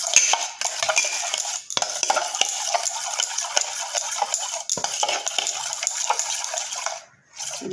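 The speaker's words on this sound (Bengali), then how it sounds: "দেখুন ভালো করে ফেটিয়ে নিচ্ছি দইটা।" A utensil whisks yogurt in a bowl, giving a continuous loud scraping and clinking stir with quick rhythmic strokes close up, and a brief pause near the end.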